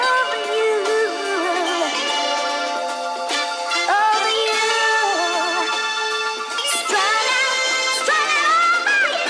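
A chopped soul-style sample pitched up four semitones and processed, its bright harmonic melody with sliding vocal-like lines playing continuously and fairly loud, with no talking.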